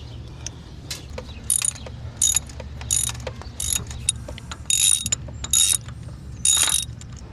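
Ratchet tightening a 10mm bolt during engine work on a Jeep WK1 Grand Cherokee, heard as repeated bursts of sharp clicking pawl strokes in short rhythmic runs, close and loud with no talking.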